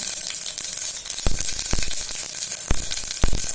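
Mustard seeds and dried chillies sizzle in hot oil in a pressure cooker, with a steady close crackle and a few sharp pops standing out as the seeds burst.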